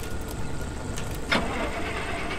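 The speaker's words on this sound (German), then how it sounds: "Starte den Motor." A car engine starts in the video game Pacific Drive: a brief cranking burst catches at once, then settles into a low, steady running hum.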